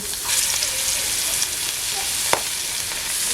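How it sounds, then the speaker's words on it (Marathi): Steady, dense sizzling of fish frying in hot oil on an iron griddle over a wood-fired stove, continuous throughout with a brief sharp crackle near the end. "मच्छी मस्त फ्राय करून घ्यायचे पातं हा मासा लगेच फ्राय होतो"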